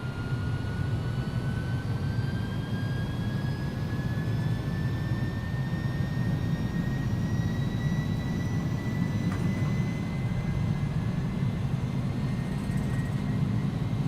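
Airbus A300 jet engines spool up for takeoff in X-Plane 11, a steady loud roar with rising whining tones throughout and no talk.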